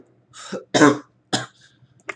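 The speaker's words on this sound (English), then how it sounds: "I've been coughing, so I really can't like" A few short, rough coughs and a throat clear in quick succession, close up, with brief silences between them.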